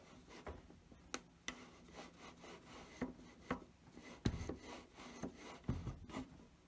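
An old painted front porch roof support being rubbed down, giving quiet, close scraping and rubbing with scattered sharp taps and knocks at an uneven pace, alone with no talk.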